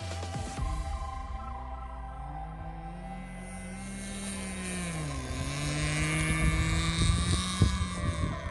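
Magnum Pro 45 glow engine on a Phoenix Models Sonic Low Wing MK2 radio-controlled plane in flight, running slightly lean; a steady whining drone with pitch sweeps as it passes, growing louder toward the end.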